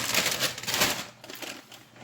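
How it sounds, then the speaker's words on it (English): Scissors snipping and rustling through a plastic bag of okra in a home kitchen while cooking, a close, crinkly burst of cutting and crackling plastic lasting a couple of seconds with no talk. "Let me grab my scissors to cut this bag of okra open."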